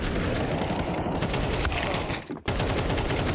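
Counter-Strike 2 gunfire during a professional match: dense, rapid bursts of shots fill the clip, briefly cut by a short gap near the end, then resume.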